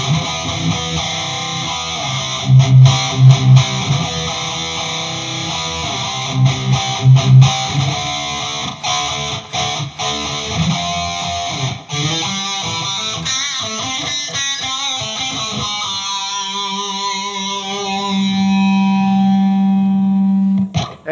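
An electric guitar is played through a GP50 effects unit into a Donner MT-2 battery-powered portable PA with reverb added. Sustained chords and picked notes ring out with a spacious wash, ending on a long held tone.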